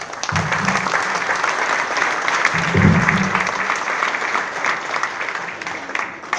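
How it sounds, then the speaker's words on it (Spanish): Audience applause at an agro-industry event in Las Dunas, sustained clapping from a crowd that swells near the middle and carries on steadily throughout, with a faint voice underneath. "le brindamos un fortísimo aplauso, por favor"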